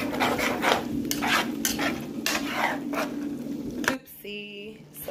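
Food being stirred in a pot, a steady scraping and swishing of a spoon repeated in a loose rhythm for several seconds, ending with a brief clatter. A voice speaks faintly in the background.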